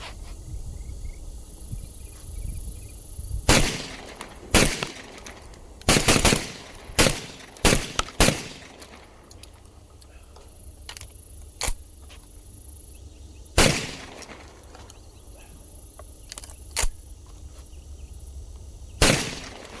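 A Beretta A300 shotgun fires a series of loud, sharp shots at irregular intervals over an outdoor background of steady insect chirping, with quieter pops between the main blasts.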